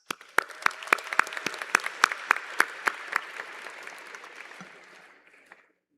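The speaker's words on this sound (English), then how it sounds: "please give a round of applause to Suvik Das" An audience at a university convocation applauds for a graduate, starting as a burst of sharp, distinct hand claps that soon blend into steady clapping, then thin out and fade over about five seconds.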